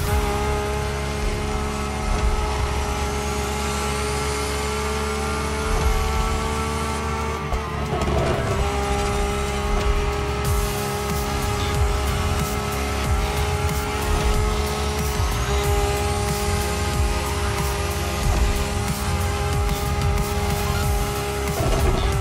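Lamborghini cars race in The Crew Motorfest, engines droning steadily and loud throughout with rising and falling pitch sweeps as gears shift, occasional tire squeal, no talking.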